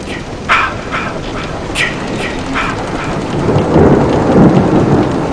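A thunderstorm sound effect with heavy rain plays as loud, steady rain hiss under repeated rumbles and cracks of thunder that swell toward the end, with no voice over it.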